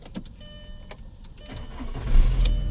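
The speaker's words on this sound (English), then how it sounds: "Turn the car back on." A 2.0 L Volkswagen Jetta with a misfire is started up: a brief click and a few chimes, then the engine cranks and catches, and a low rumble builds to a steady idle nearby.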